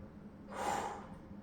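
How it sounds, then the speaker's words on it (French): A single audible breath, a soft exhale lasting about half a second, taken during a stretching exercise in a short workout done at home or at work, faint and close against quiet room tone. "Et on respire."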